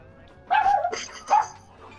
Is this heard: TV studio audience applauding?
no